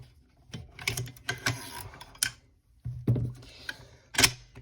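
An AK-pattern rifle being field-stripped, its recoil spring pulled free: a series of sharp, close metallic clicks and rattles in irregular bursts, with brief quiet gaps between handling noises.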